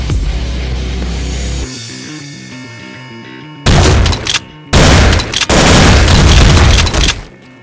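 Double-gun weapons fire in the indie video game Wake The Dragon comes in loud, booming bursts of rapid shots, following a stretch of background game music.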